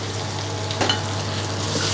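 Minced prawn fries in a hot pan for a Thai crispy wild betel leaf prawn dish, giving a steady, close sizzle with a brief stir or scrape near the middle.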